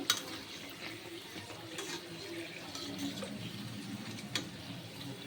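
Karjikayalu, sweet stuffed pastries, frying in oil in a pan, giving a steady soft bubbling sizzle throughout with a few brief clinks and stirring scrapes, close by with no talking.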